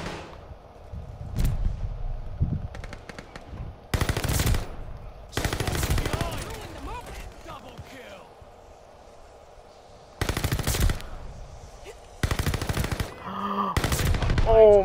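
Bursts of automatic gunfire ring out from a Marco 5 weapon in the online shooter Call of Duty: Vanguard, loud rapid volleys separated by quieter gaps, several distinct strings of shots in close succession.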